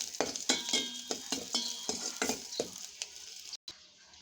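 Dried chillies, black cumin and panch phoron hit hot oil as a tempering for tomato masoor dal. Close, steady sizzling runs under a quick rhythm of about eight scraping spoon strokes against the pan, with no one talking.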